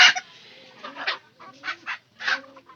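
Newly arrived hens of an unfamiliar colour clucking close by, a few short soft bursts of clucks spaced unevenly through a quiet background.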